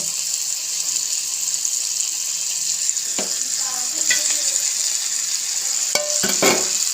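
Crushed ginger, garlic and green chili sizzle with onions in a pan for a chicken curry, a steady bright frying hiss with a few stirring scrapes and clatters near the end.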